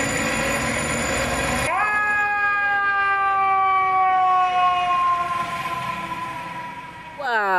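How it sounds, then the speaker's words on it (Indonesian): A toy fire engine siren wails, its rising and falling electronic tones sounding loud and steady at close range for several seconds. "Yang ini pemadam kebakaran."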